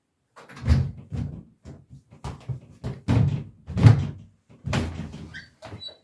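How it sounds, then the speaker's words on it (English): A sticking door, its frame shifted by an earthquake, yanked open with repeated hard pulls: a close, loud series of wooden thuds and rattles in an uneven rhythm over several seconds, with scraping and a brief squeak near the end. "this door behind me is a little bit hard to open"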